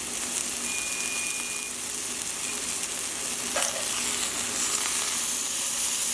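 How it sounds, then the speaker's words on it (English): A flipped steak sizzles steadily in a hot pan beside green peppercorn sauce cooking, a constant bright hiss with a faint clink partway through, close and without talk. "Then we're going to flip it now."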